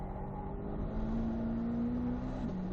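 A Corvette C8 ZR1 at the Nurburgring getting on the power out of a right-hand turn, a steady engine drone with a slowly rising tone, heard from inside or nearby at moderate level, no voices.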